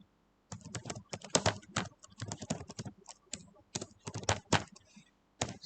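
Uneven bursts of close, crisp key clicks from a computer keyboard are broken by short silent gaps, with no voice over them.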